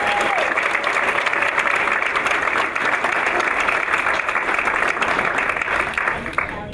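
Steady applause from a crowd, sustained clapping at an even level throughout, with a brief voice at the very start.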